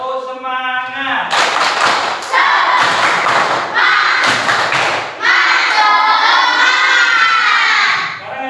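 Schoolchildren in a Blora fifth-grade classroom perform a rhythmic spirit clap, loud bursts of clapping and shouted chanting in a repeating pattern, close and energetic with voices throughout.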